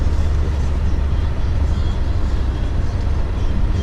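A 2017 Subaru WRX on Blizzak WS-80 winter tires plows through 12 to 14 inches of deep snow, a dense, steady low rumble of engine and tires heard from inside the car.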